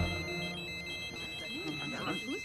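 Telephone ringing with a steady electronic trill, moderately loud, running the whole short stretch under overlapping talk and background sounds.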